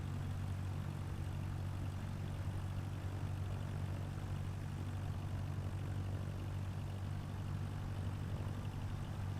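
A propeller airplane taking off in the PilotEdge flight simulator game, its steady low engine drone holding loud and constant throughout with no talking.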